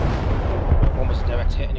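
Artillery fire in the Broken Arrow video game: a deep, heavy boom lands early, with a rumbling, booming background of more distant blasts running throughout.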